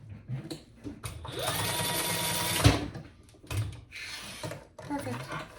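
A sewing machine bastes D-ring tabs onto a Brix Bag crossbody, running in a steady whirring burst for about two seconds, then shorter runs, with light handling clicks and rustles between.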